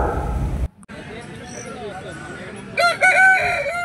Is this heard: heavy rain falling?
no